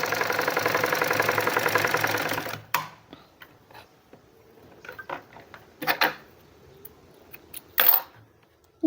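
A sewing machine runs a fast, steady double-stitch along a velvet winter hoodie for about two and a half seconds, loud and close, then stops, leaving scattered quiet clicks and fabric handling.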